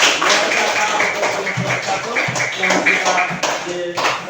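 Classroom applause after a group presentation, with a handful of students clapping in uneven bursts close by and voices talking over and between the claps.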